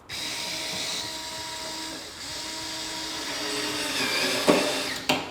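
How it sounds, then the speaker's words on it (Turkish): A Xiaomi Mijia cordless screwdriver drills into wood with a steady, high whine that rises slightly in strain, ending with a couple of sharp clunks; close and alone without talk. "Şimdi bir de tahta deliyor mu ona bakacağız"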